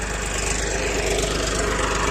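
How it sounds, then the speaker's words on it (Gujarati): A tractor engine arrives from the village to a farm field for sesame sowing, producing a steady, loud, close rumble with an even, throbbing drone and no voices. "ગામમાંથી ટ્રેક્ટર આવ્યું છે"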